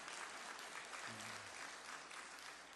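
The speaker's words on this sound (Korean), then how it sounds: "우리 박수로 한번 환영하시겠습니다" A church congregation claps to welcome two teachers introduced during a Sunday worship service, a steady, fairly faint wash of applause throughout with a brief low hum in the middle.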